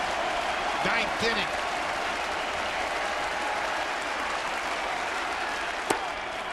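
A crowd at a baseball stadium cheers and applauds steadily in the 9th inning with fans on their feet, a broad roaring wash under a commentator's voice, with a sharp single crack late on.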